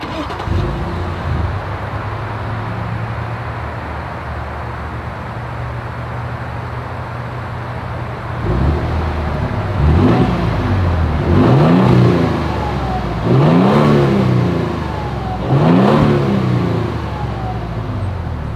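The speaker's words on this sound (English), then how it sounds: "As always, here is that exhaust clip." A 2022 Toyota Tundra Limited pickup's exhaust idles with a low rumble, then several sharp revs rise and fall one after another, loud and close.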